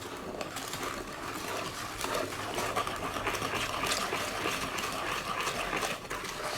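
A spatula stirs thick mocha pound cake batter in a bowl, producing a steady, close, wet squelching and scraping that continues without pause.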